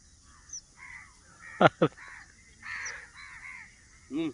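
Two sharp crow caws close together stand out against quiet outdoor background, with faint voices murmuring around them.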